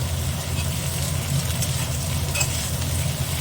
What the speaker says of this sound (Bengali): এই যে দেখছো সব সবজিগুলো কিন্তু একটু নেড়ে চেড়ে ভাজছি